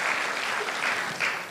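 A live audience claps together in a hall at a motivational success-day event in Mumbai, steady dense applause sustained throughout with no voices on top.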